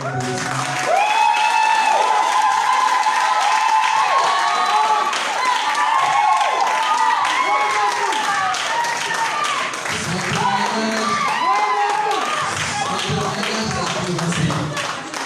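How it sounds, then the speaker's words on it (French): A church congregation at a Pentecost service applauds and cheers loudly, with steady sustained clapping mixed with shouts and a voice ringing out over the crowd throughout. "Je voudrais qu'on acclame le Seigneur pour mon moment de"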